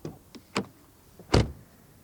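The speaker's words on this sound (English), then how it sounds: "door closing sound. That sounds quite solid, doesn't it?" A Porsche Macan GTS door swings shut, heard as a few light clicks and latch sounds followed by one solid, close thud, alone in a quiet setting.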